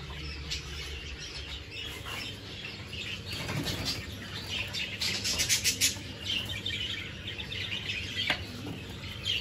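Young budgerigars, including a dominant pied, move about a cage with soft wing flutters and scrabbling, plus occasional chirps close by, over a low background hum.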